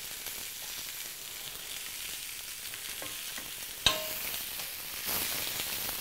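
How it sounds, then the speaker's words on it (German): Cabbage rolls browning in a pot give off a steady, close sizzle and crackle, with a sharp clink near the middle and the frying getting a bit louder toward the end, no talk. "Und jetzt seht ihr ja schon, wie schön die jetzt hier angebrutzelt sind."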